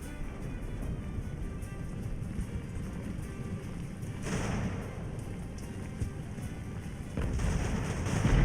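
Cannon fire booms in the naval battle game Ultimate Admiral Age of Sail. Dull, distant thuds roll over a constant rumbling battle din, with a couple of heavier blasts swelling near the end.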